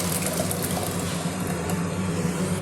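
Water is poured into a masala mixture for a chana dish in a home kitchen, giving a steady, close trickling splash that stays even throughout.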